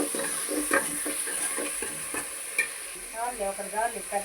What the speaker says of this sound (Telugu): కొద్దిగా కరివేపాకు వేద్దాం. బాగా మిక్స్ చేసుకోవాలి.